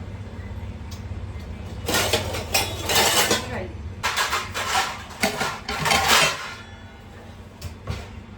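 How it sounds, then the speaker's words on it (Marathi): Metallic clattering and scraping of a cooking pot and lid as the lid goes onto a pot of chicken biryani, several sharp bursts in a row over a low background hum. "आता त्याच्यावर झाकण ठेव आणि वाफेवर तो शिजू द्यात"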